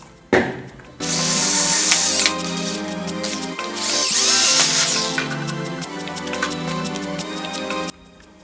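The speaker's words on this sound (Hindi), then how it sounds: "मैं इसमें ड्रिल कर देता हूँ।" A power drill bores a small guide hole for a homemade butane blow torch, a sharp start then a steady high whine that surges and dips for several seconds before stopping, close up with no talking.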